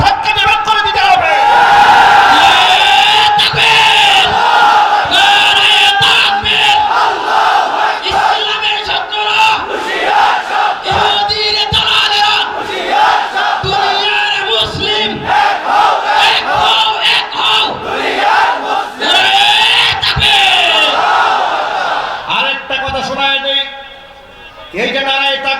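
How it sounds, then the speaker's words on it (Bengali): Loud crowd chanting the Nara-e-Takbir slogan in unison at a Bengali religious sermon gathering, repeated bellowed call-and-response shouts sustained throughout, briefly dipping near the end before rising again. "এই যে নারায়ে তাকবীরের স্লোগান দিয়েছে"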